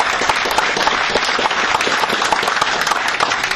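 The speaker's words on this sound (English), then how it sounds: "if we can have a quick round of applause for Charlie and Rafa" Sustained round of applause from a crowd at a foxhound show at Mount Juliet, dense steady clapping that holds at an even level throughout.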